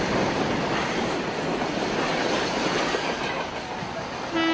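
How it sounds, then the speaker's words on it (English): A train rolls past a railway crossing, its loud, dense rumble and wheel clatter sustained at close range, with a short horn-like tone rising right at the end; no talking. "And here's the train."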